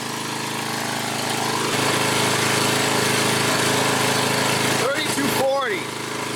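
A Craftsman 28-inch walk-behind machine's engine runs steadily while warming up, a loud, close, continuous drone with a brief high whine sweeping up and down near the end.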